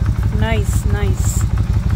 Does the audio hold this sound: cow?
no